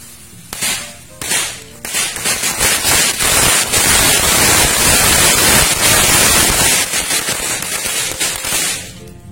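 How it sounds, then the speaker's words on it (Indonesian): Two bundles of match firecrackers set off for Chinese New Year: a few separate sharp bangs at the start, then a dense, continuous string of crackling and popping loudly for several seconds. "selanjutnya kita nyalakan 2 gepok mercon korek"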